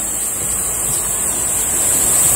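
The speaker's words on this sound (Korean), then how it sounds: "여기가 바로 백운 계곡입니다. 포천 백운 계곡." A mountain stream flows at Baegun Valley in Pocheon as a steady, dense rush of water that holds evenly throughout without interruption.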